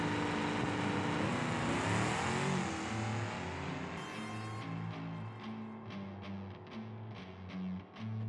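Gavril Grand Marshal running a nitrous-boosted drag pass in BeamNG, its engine roaring loud and close with no break, the pitch wavering and stepping through gears, with no voices present.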